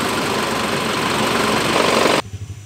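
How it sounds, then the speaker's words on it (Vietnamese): The diesel engine of a 2003 SsangYong Musso idles smoothly and steadily at close range, a constant even drone that cuts off abruptly near the end. "đây nổ máy lạnh đó. Máy nổ êm. Máy dầu vậy là quá em rồi"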